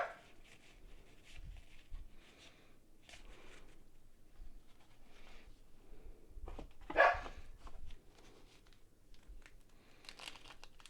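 A Jack Russell Terrier and Chihuahua mix gives a short, faint bark in a quiet room, heard among soft crinkling and tearing of card pack wrappers.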